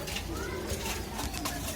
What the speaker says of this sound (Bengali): এই যে নীলদুম্বা কবুতর